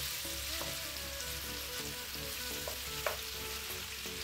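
Onions fry in a pan for pickled jalapeños, a steady close sizzle with faint crackles and a few small clinks, continuous and without speech.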